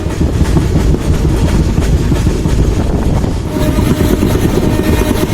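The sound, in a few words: passenger train running on rails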